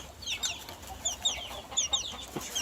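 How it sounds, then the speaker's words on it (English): Birchen Cochin chickens cluck and chirp in short, repeated high calls inside a coop, several birds overlapping close by. "there's a bunch of chickens here. So this is one of the Birch and Cochins"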